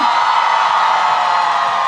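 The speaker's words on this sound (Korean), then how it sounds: "함성!" A large audience at an outdoor cheese festival concert in Imsil cheers and whoops continuously, a dense sustained roar of many voices close around.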